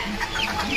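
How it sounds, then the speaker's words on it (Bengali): A brief, close cluck or two from silkie chickens on a poultry farm, heard alone without talk. "এটা কি মুরগি? এটা সিল্কি।"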